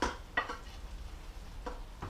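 Beef strips go into a pan of onion sauce on lowered heat, making a soft, brief sizzle and a few scraping stirs close by.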